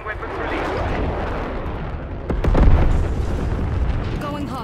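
Airstrike explosions in the game Black Ops 6: a sustained, heavy rumble of blasts that swells into a deeper boom midway, with radio chatter over the top.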